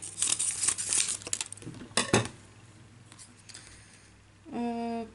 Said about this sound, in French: je voulais découper un morceau de ça